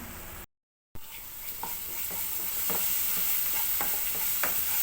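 Chicken frying on a high flame with ginger garlic paste, turmeric and salt for a spicy Kerala chicken dry roast: a steady close sizzle with intermittent stirring scrapes and clicks, briefly cut out near the start.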